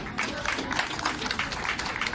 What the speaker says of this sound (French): Est-ce qu'on peut applaudir pour ce patron?